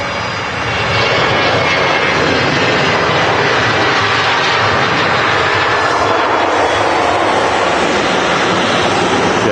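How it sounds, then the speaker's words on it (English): Aircraft at Manchester Airport, a loud, steady jet engine roar with broadband rushing noise that swells in over the first second and then holds for the rest of the clip. "Sounds of planes is awesome."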